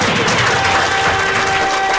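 An audience claps steadily and fairly loudly for a couple of seconds at an evening event with students, a dense wash of hands with no pause.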